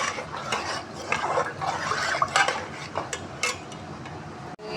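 Kadhi pakora batter being whisked rapidly with a spoon in a bowl, a steady stream of scraping, clinking strokes against the vessel, fairly close and busy, ending with a sharp knock.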